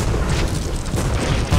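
A ship exploding during a Blazing Sails naval battle, a low rumbling boom with crackling debris that continues over the short stretch and ends in a deeper thud.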